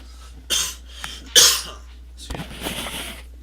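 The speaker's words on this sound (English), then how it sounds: "I gotta stop coughing." Two or three sharp coughs with a throat clear, loud and close, separated by short pauses, with faint breathing between bursts.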